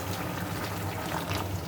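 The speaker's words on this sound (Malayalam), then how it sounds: "ഇനി നമുക്കതിലേക്ക് അരിക്ക് 6 ഗ്ലാസ് തിളപ്പിച്ച വെള്ളം ഒഴിക്കാം" Boiling water poured into a pot of rice for ghee rice: a steady, continuous splashing rush heard close and fairly loud for the whole stretch, with no voices.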